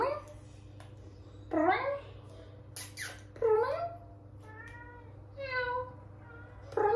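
A cat meows several times up close, short rising and falling cries separated by pauses over a quiet background hum.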